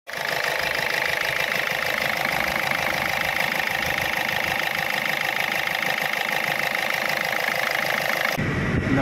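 A vehicle engine with coolant mixing into the engine oil starts up and settles into a steady, close idle with a rhythmic mechanical knock, then cuts off abruptly near the end.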